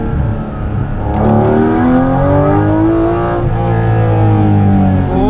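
Porsche GT4 RS engine revving hard at high RPM, a loud, continuous rising and sweeping wail that climbs steadily and holds near the top, close and uninterrupted with no talking.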